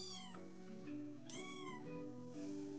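A kitten meows repeatedly, several high, drawn-out mews in close succession, quiet and close with a faint background hum.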